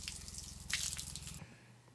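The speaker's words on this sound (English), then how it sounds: "Considerable speed change from the water coming out of the nozzle." Water jets out of a nozzle in a hissing, splashing stream over a low pulsing pump-like rumble, then cuts off abruptly partway through, leaving a quiet hum.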